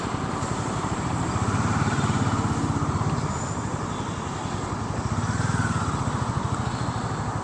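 Hero motorcycle engine, a Mavrick 440 or Karizma XMR, on a test ride, giving a steady close low rhythmic thump with pulsing exhaust beats under wind rush, continuous and fairly loud throughout.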